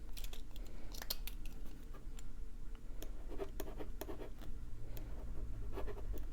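A Waterman ballpoint pen with black ink scribbles on a small piece of scrap paper, giving close, quiet, continuous scratchy strokes with short taps and pauses, and no talking.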